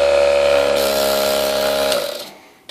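A homemade pneumatic metal engraver buzzes in a steady, loud, high-pitched drone close by, then winds down and stops.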